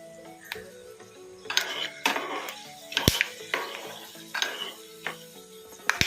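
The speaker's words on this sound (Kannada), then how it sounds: "ಈಗ ಎಣ್ಣೆ ಬಿಸಿಯಾಗಿದೆ. ಸ್ವಲ್ಪ ಮೆಣಸು ಹಾಕೋಣ." Pepper crackles and sizzles in hot oil in a pan for a home-style thili saru tempering, with sharp pops and clicks, spoon scraping against metal and a light frying hiss, close up.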